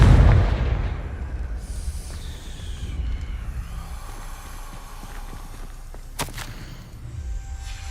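A Confringo spell explosion in the Hogwarts Legacy video game opens with a loud burst, then settles into a long rumbling, crackling decay, with a sharp crack near the end.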